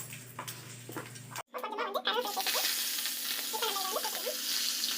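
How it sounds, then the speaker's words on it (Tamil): Mustard seeds are tempered in hot oil for ridge gourd chutney, making a quiet hum that cuts off and then turns into a bright, crackling sizzle with scattered pops. The sizzle holds steady through the rest. "நம்ம எண்ணெய் காஞ்சிட்ருக்கு. கடுகு போட்டு நம்ம வந்து இதை தாளிச்சிக்கலாம்."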